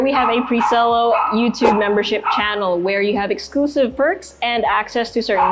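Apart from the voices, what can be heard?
dog barking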